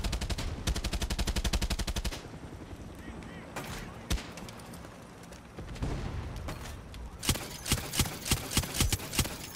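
Gunfire in the Far Cry 6 video game: a fast, even burst of automatic fire, then scattered single shots, and finally another run of loud, rhythmic rapid shots.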